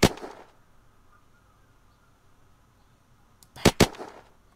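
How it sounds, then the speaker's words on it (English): A long-range rifle in Unturned fires sharp, cracking shots: one at the start and a quick pair near the end, with near silence between them. "Long range shot."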